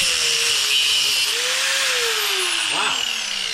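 A power tool cuts through a car's metal number plate bracket, a loud steady whine running throughout with a pitch that wavers and dips briefly near the end.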